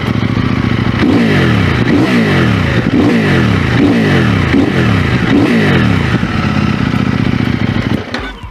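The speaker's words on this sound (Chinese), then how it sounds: "它整个的油门的响应、发动机转速的那种跳跃是变得极为灵敏" A 2023 CFMoto 800NK motorcycle engine in sport mode revs repeatedly at close range, about seven sharp throttle blips rising and falling in a quick rhythm over a loud idle before cutting off.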